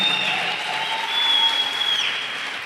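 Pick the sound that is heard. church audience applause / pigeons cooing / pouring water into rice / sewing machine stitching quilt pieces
church audience applause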